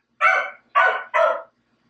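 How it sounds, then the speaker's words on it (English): A dog barks three times at people crossing the street, loud and close, with short gaps between the barks and quiet before and after. "Can you not bark at everybody who's walking across the street?"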